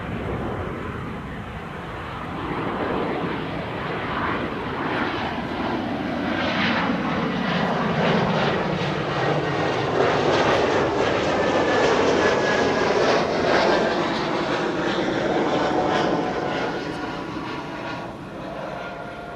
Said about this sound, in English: there's the E2 taking off